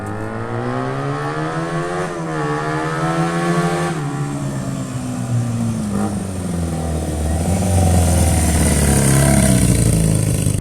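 A Honda motorcycle with freshly adjusted valves rides past on a test run, its engine note rising and falling through gear changes and revs, steady and fairly close, building louder toward the end.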